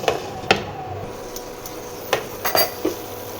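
Metal clinks and clanks as a lid is set over a cooking pot of spiced tomato and potato curry: a few sharp, close taps and rattles scattered over a quiet background.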